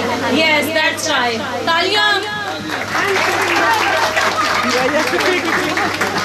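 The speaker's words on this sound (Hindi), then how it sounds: "तालियां" Audience applause at a Christmas party in a restaurant, a sustained crowd clapping throughout with babble and a loud voice talking over it.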